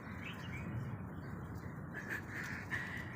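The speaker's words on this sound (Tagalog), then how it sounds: "nagpapakain po siya ng mga uwak" Crows being hand-fed outdoors give scattered caws and chirps over a steady wash of background noise, moderately near and fairly faint.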